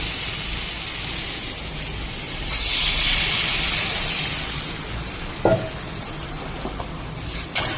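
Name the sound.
water poured into a hot pan of sautéed vegetables, hissing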